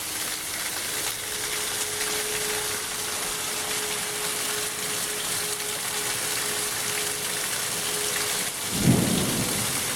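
A thunderstorm with heavy rain in Texas: a steady, dense roar of rain runs throughout, with a low rumble of thunder swelling near the end.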